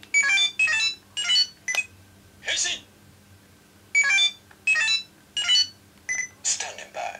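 A CSM Kamen Rider 555 Faiz phone toy in phone mode gives out a run of bright electronic beeps in uneven bursts, loud and close, over a faint steady hum.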